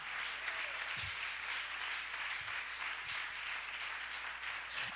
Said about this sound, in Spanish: Vamos a regalarle una ofrenda de palmas al Cristo de la gloria.